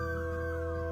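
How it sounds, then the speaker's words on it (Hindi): A drawn-out canine howl from dogs in the distance at night near a village, one steady tonal wail held unbroken for a second over a low background hum. "ऐसे ही एक रात दूर कुत्ते भौंक रहे थे।"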